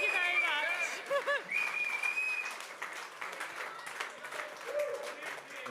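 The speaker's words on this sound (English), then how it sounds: "big round of applause" Audience applause at a rugby preview event, a brief burst of clapping that fades within seconds beneath a voice talking over it.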